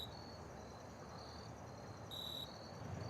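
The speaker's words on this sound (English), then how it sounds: "Crickets become part of the late summer symphony." A faint, continuous high-pitched cricket trill hangs over quiet background hiss, with a brief sharper tone partway through and no voices.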